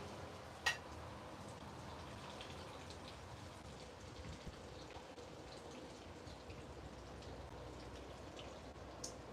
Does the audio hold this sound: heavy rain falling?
yes